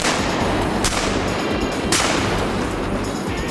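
Gunfire during a hunt on a farm: two sharp, loud shot cracks about a second apart stand out over dense, steady background noise.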